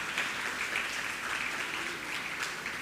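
Steady, soft applause from a crowd at a primary school graduation ceremony, distant and even throughout with no single claps standing out.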